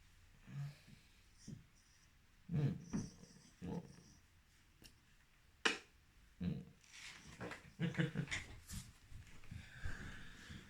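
A dog snorts and breathes in short, irregular bursts, quiet and close, with sniffs and huffs scattered across a faint background.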